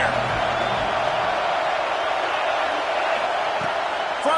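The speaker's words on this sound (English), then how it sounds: "They've got him pinned deep in their own end, and this crowd trying to help keep him there." Football stadium crowd roaring steadily to rattle the offense as its team pins the opponent deep in their own end, a dense, continuous wall of cheering with a short whoop near the end.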